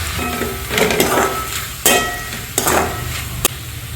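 Onions, green chillies, tomato, ginger paste and chilli powder fry in a pan for parotta salna, a steady close sizzle broken by several sharp scrapes and clanks of a spoon against the metal pan.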